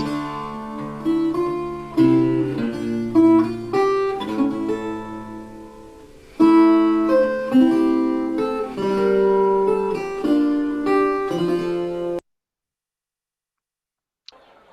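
A 403-year-old gemshorn, a soft, breathy wind instrument, plays a lilting melody of sustained notes, solo and close, with a brief pause midway before the tune ends.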